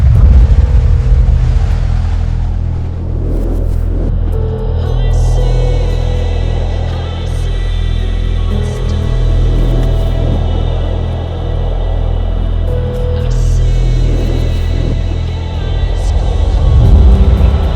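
An all-wheel drive Hyundai Tucson on the road, giving a steady, loud low engine and road drone with a constant rumble that swells slightly at the start and end, with no talking.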